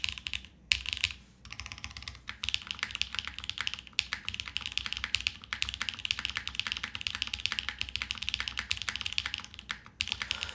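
Rapid, close typing on a Vanguard65 mechanical keyboard fitted with Doom switches: dense, even keystroke clatter with a short pause near the start, then continuous bursts of fairly deep, crisp key presses.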